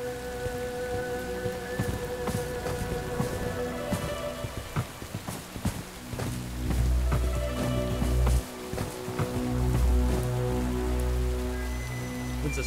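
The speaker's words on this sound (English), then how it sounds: "When's this rain gonna stop?" Rain falling in the video game Bright Memory Infinite, a steady patter of drops on surfaces with scattered sharper splashes and a deep rumble toward the end, with no one speaking over it.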